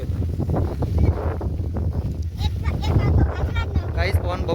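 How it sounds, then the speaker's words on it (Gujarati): Strong wind gusting across an open millet field during harvest, a steady broadband roar buffeting the microphone throughout, with voices talking underneath. "પવન બહુ છે"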